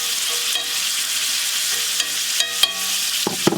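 Meat searing in a hot pan in an Alaska cabin kitchen, giving a continuous hissing sizzle broken by a few sharp clatters and scrapes near the end.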